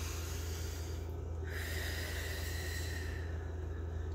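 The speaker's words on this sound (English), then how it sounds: "So I invite you to take three deep breaths." A long, steady airy breath taken during guided relaxation, close and continuous over a constant low hum and hiss, no talking.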